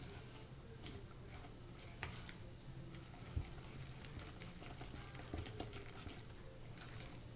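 Flour is stirred into banana bread batter by hand, soft scraping and patter of a spoon in a bowl, faint and continuous with a few light knocks, no talk.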